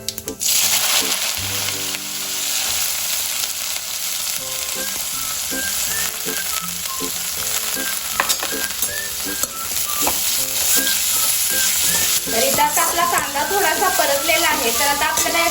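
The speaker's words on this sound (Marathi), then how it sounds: "आता आपण इथं जो कांदा चिरून घेतलेला आहे तो घालून घेऊयात" Chopped onion is added to hot oil already crackling with mustard seeds, cumin and asafoetida, producing a loud, continuous frying sizzle with scattered pops and stirring over about fifteen seconds.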